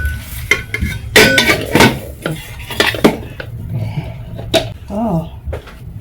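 A metal lid clanks and scrapes onto a pot of butternut squash ugali in a home kitchen, several sharp clattering knocks and rattles close by with softer stirring and shuffling between them.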